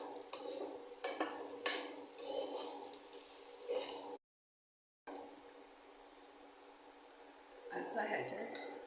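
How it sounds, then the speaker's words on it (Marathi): Namkeen mixture being sautéed in a pan in a home kitchen, with scraping and clinking of a spoon against the pan, dry rustling stirs, and a brief silent gap midway. "आता हे आपण चांगलं परतून घेऊया."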